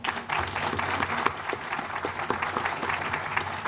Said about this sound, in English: Could we give all our board another round of applause?